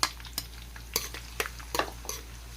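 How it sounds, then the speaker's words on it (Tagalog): Onions and garlic for chicken pastil sauté in a pan, with a metal spatula scraping and knocking against it about every half second over a steady low sizzle, close and clear with no voices. "Isusunod ko agad itong sibuyas."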